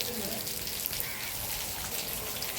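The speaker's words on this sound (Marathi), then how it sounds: "किती पाऊस पडायला लागलाय बघा" Heavy afternoon rain falling in Pune, a dense steady hiss of downpour filling the scene evenly from start to end with no pauses.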